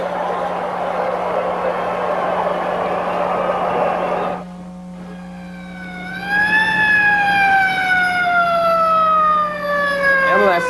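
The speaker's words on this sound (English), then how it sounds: "Ambulances and sirens shouldn't be a part of your game day fun" A loud wailing ambulance siren rises and falls after a short pause, following a noisy stretch with a steady low hum underneath.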